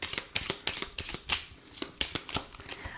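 Tarot cards are shuffled by hand, close by: a quick run of about a dozen crisp riffling slaps and flutters in an uneven rhythm, with no talking.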